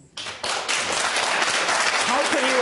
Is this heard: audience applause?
yes